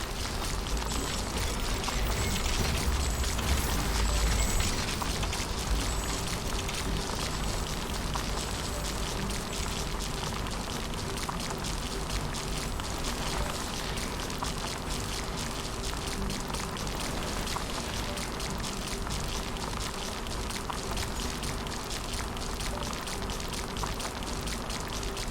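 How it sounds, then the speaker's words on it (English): Steady rain falls in the video game The Riftbreaker, a dense, continuous hiss and patter of drops that holds at an even, fairly loud level for the whole stretch with no voices over it. "It's raining."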